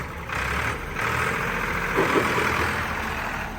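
A steady Swaraj tractor engine idles nearby, a continuous low rumble with a mid-range hum that barely changes throughout.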